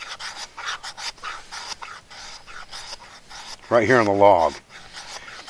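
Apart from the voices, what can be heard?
knife back scraping shavings off a ferrocerium rod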